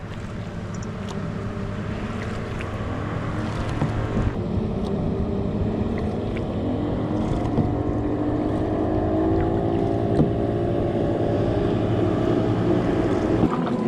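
Speedboat and long-tail boat engines drone continuously nearby in a mangrove forest on Koh Lanta, Thailand, a steady motor rumble with wind buffeting the microphone as vessels pass.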